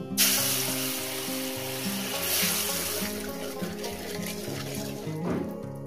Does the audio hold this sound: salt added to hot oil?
yes